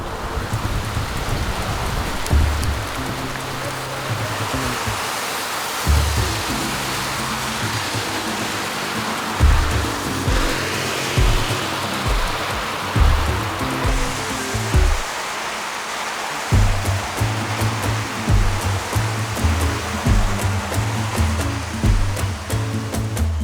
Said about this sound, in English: Our very first ride of Costa Rica is in the rain.